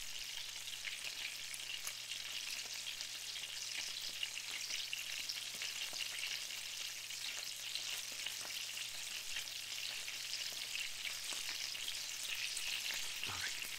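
A hamburger patty frying on maximum heat, giving a steady, dense, crackling sizzle that holds evenly throughout with no talk.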